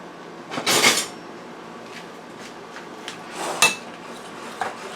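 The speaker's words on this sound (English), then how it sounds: "I'm just going to give this a stir" A spoon stirs and scrapes a pot of thick baked beans and franks with molasses and syrup, giving two or three short metallic clanks spaced apart with quiet between them.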